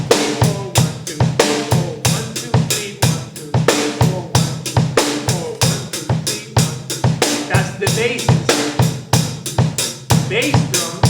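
A drum kit plays a linear rhythm pattern, with bass drum strokes interlocking with snare and cymbal hits in a steady, driving groove of sharp, evenly spaced attacks, loud and close, with no talk.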